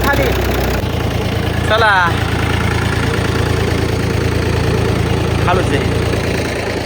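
A Mahindra tractor engine idles with a steady low, throbbing rumble close by, while a person speaks briefly over it.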